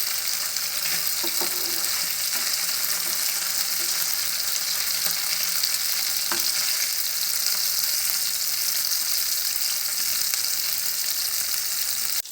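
Masala fries on a hot tawa with pomfret in a loud, constant sizzle lasting about twelve seconds, close up, with a few faint stirring ticks and no voices.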